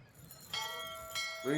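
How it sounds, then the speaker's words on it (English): A bell rung in the video game Syberia gives clear struck tones with long, ringing harmonic overtones, one strike near the start and another partway through, each fading slowly, before a brief low sound enters at the end. "Ring the bell."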